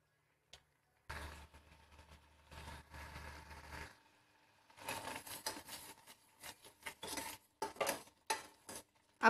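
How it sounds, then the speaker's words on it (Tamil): A spoon scrapes and clanks against a pan while spoiled milk and sugar are stirred over a medium flame, in irregular bursts with quiet gaps, fairly close and with no talking. "மீடியம் ஃப்ளேம்லேயே வச்சு கலந்து விட்டுட்டே இருங்க"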